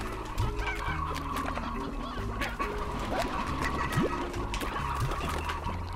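A stony hen clucks in the farming game Slime Rancher, with short repeated clucks over a busy, continuous game soundscape of music and ambient effects.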